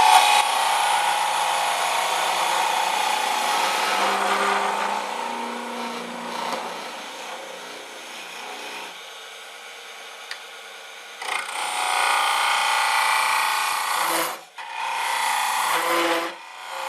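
A bowl gouge cuts into wood spinning on a lathe while a hollow egg is roughed out, giving a loud, continuous scraping hiss that pauses briefly and surges back in several long passes.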